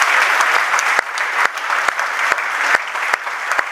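A church congregation claps together, a dense, steady wash of applause with sharp individual claps standing out near the mic, loud and continuous with no talk over it.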